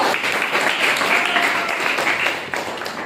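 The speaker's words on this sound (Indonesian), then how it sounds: "Tepuk tangan untuk Freddy Sambo." Classroom applause for a student during a guidance session, a steady wash of many hands clapping from start to finish with no voices over it, easing slightly toward the end.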